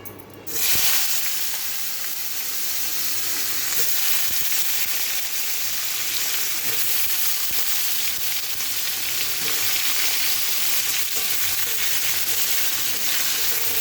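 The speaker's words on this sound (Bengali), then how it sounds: "বেগুনগুলো ভাজা হোক" Pieces of young, tender eggplant fry in a fully heated kadai, a constant close, dense hiss of sizzling oil that holds steady throughout after a brief quiet opening, with no voices.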